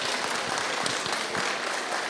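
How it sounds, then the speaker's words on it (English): Steady applause from a convention audience for panel guests, dense and continuous clapping filling the whole stretch at even loudness, with no voices on top. "A big round of applause"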